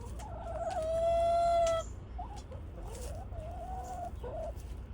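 Chickens cluck and call nearby, with one long drawn-out squawk early on followed by shorter clucks over a steady low background rumble.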